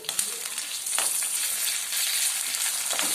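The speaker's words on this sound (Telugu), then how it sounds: "ఇది కూడా మనం ఫ్రై చేసుకోవాలి." Ginger-garlic paste fries with onions in a pan for a broad bean pulao, a steady bright sizzle with a few light stirring scrapes throughout.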